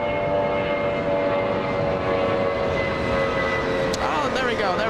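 Airliner nicknamed the banana plane taking off at Los Angeles International Airport, a loud sustained engine roar with a steady whine, heard at a distance from a plane-spotting position.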